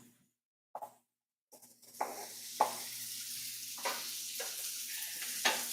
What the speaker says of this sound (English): onions and peppers. Let's drop those down.